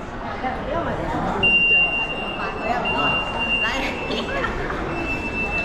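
At the entrance of a busy shopping center in Hengqin, Zhuhai, a walk-through metal detector gives a thin, steady electronic tone over loud crowd murmur and footsteps.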